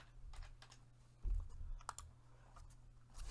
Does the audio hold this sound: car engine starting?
no